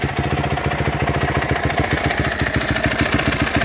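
A 2010 Kawasaki KX250F dirt bike engine idles close by with a rapid, steady four-stroke thumping pulse, loud and uninterrupted.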